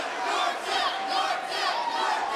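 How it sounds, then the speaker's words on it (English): A crowd at an axe throwing world championship chants "Yorkdale" in rhythmic repeated pulses, loud and massed, with a commentator talking over it. "As the crowd is chanting Yorkdale"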